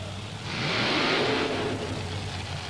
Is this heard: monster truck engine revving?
yes